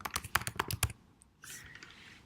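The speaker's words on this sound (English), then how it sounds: "If you start typing in the search bar" Rapid bursts of computer keyboard typing as a student's name is entered into a report search bar, a quick run of sharp clicks followed by a softer, steadier stretch of key noise.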